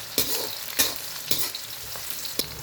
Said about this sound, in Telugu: ఉల్లిగడ్డ వేస్తున్నాను. కలపాలి బాగా. కొద్దిగా బ్రౌన్ అవ్వగానే